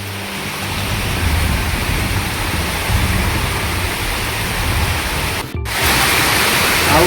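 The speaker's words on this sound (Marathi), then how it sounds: "पाऊस पण फुल आहे." Heavy rain pours down steadily and loudly, a dense continuous hiss with a brief dip near the end, no voices heard.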